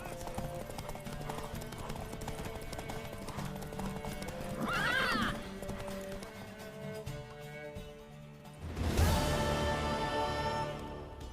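Horse hooves in The Witcher video game, a steady clip-clop of hoofbeats broken by a short whinny midway and a louder snorting neigh toward the end, with game music and ambience underneath.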